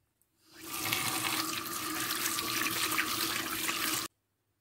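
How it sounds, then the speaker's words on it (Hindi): Tap water runs steadily over cut papaya pieces being washed in a kitchen sink, a continuous close splashing rush lasting a few seconds and then stopping abruptly, with no talking. "तो अभी मैं धो लेती हूँ।"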